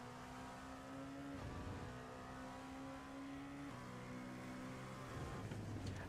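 Race cars on a road course in the Western Grinding Road Series, engines droning steadily with pitch shifts as gears change, a faint, distant-sounding onboard roar with no talk.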